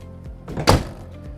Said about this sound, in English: Just grab the door and pull it down close.